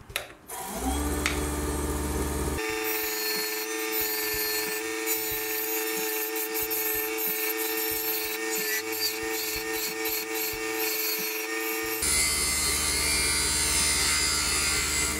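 A wood lathe spins a honey dipper blank while a gouge rides its bevel, giving a steady close whirring hum with scraping cut noise that holds for most of the stretch and then shifts to a louder, rougher tone near the end.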